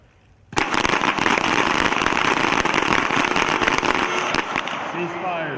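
Team of shooters firing pistols at an Army small arms championship team match: a sudden dense barrage of overlapping sharp shots from many guns, continuous for about four seconds before thinning out.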